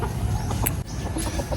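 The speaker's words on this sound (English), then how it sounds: "My father is feeding chicken." Chickens clucking near the microphone while being fed at a family home, short soft clucks and a few sharp calls over a low rumbling background.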